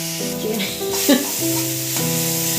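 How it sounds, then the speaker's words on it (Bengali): A spice paste with chili powder is stirred and fried in a pan, a steady sizzle with scraping stirs, close and fairly loud, while a tonal hum runs underneath. "এবার একটু ভালো করে এটাকে নাড়াচাড়া করে নিতে হবে, কষিয়ে নিতে হবে।"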